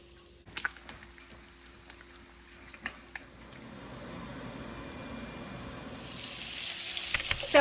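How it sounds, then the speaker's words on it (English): Chuck roasts searing in a hot pan, a soft sizzle that swells gradually from quiet to a louder, hissing fry, with a few clatters early on and a brighter burst near the end. "I'm going to sear some chuck roasts"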